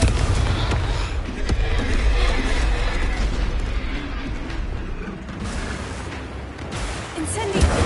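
Confringo blast spell explosions in the video game Hogwarts Legacy, a dense run of booming bursts and crackling impacts layered with game effects, loud and continuous throughout.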